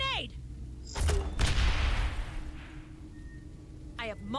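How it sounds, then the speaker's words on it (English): A grenade explosion in the video game Aliens: Dark Descent, a deep booming blast followed by a rumbling tail, with brief radio chirps and electronic beeps before and after. "Grenade."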